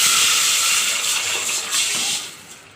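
A loud, steady sizzling hiss, close up, that gradually fades toward the end, as hot oil tempering with curry leaves is poured into thin sambar.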